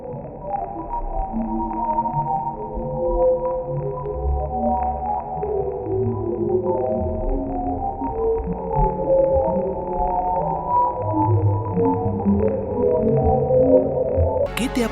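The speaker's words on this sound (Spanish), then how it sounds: "Este es el inquietante y misterioso sonido del espacio profundo, un eco del universo." A deep-space sound rendered as an eerie, continuous drone of layered low tones that slowly waver and overlap, loud and unbroken for about fifteen seconds.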